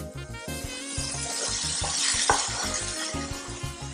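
Bell peppers sweat in a hot oiled pan, giving a steady close sizzle, and a utensil stirs them with scraping and occasional light clinks.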